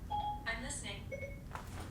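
Short electronic tone from a phone's Siri assistant activating, a few brief beeping chimes over low background noise, with people talking nearby.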